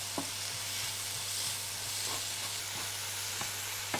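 Tomatoes sautéing in a pan with salt and asafoetida give a steady, soft sizzle with a few faint stirring scrapes and occasional light taps, close and fairly quiet throughout.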